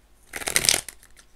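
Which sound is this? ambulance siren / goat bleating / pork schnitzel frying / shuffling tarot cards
shuffling tarot cards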